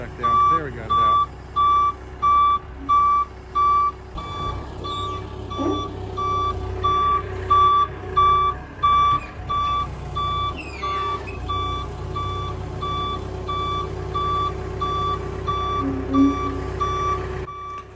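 A forklift moved during a South Bend lathe restoration gives loud, evenly spaced reversing beeps over a low engine drone, about seven beeps in a row before the beeping fades and the engine keeps running, with some voice under it.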